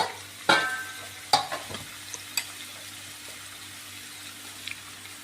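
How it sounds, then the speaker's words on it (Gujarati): Chillies, curry leaves, coriander and turmeric being sautéed in hot oil for chivda, a low steady sizzle broken early by a few sharp spoon knocks and scrapes against the pan, then quieter frying. "આ બધાને બરાબર સાંતળવાનું."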